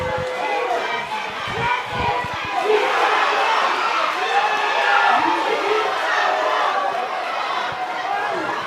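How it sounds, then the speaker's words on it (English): A loud, vociferous football crowd at the Sufra Mini Stadium in Saint Lucia's semi-professional league roars and cheers steadily behind the home team, a dense wall of shouting voices with no break. "the very vociferous crowd here at the Sufra Mini Stadium coming behind their team"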